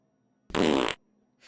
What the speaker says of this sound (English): Farts! How rude.